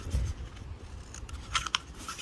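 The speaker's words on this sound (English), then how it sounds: "The first step is to cut 4 slits in the bottom of your" Scissors snip slits into the bottom of a cardboard toilet roll, a few soft close cuts with a couple of sharper crisp snips near the end over faint outdoor background.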